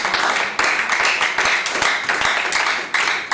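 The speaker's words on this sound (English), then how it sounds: "Can somebody give a clap of praise to the Lord?" A church congregation claps in praise, a loud, dense patter of many hands with a few sharper claps, filling the room throughout.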